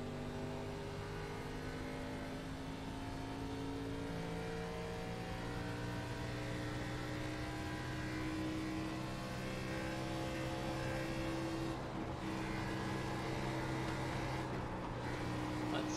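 A race car in a racing video game pulls away from the end of pit road, its engine climbing steadily through the gears with tones stepping upward, steady and moderately loud for the whole stretch.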